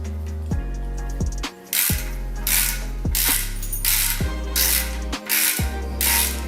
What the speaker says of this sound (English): So let's turn this and see if it spins.